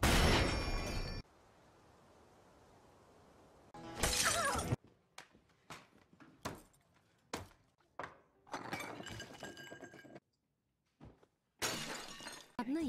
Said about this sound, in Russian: Я продолжу разбивать всякую хрень.